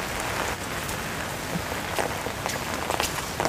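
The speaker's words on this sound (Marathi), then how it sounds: "पाऊस आहे ना मित्रांनो, भरपूरच पडलेला आहे." Heavy monsoon rain pours down in a village lane, a dense, constant hiss of water hitting surfaces close by with scattered sharper drop splashes and no voices.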